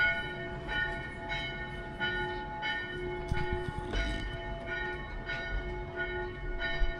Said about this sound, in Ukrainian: церкві дзвони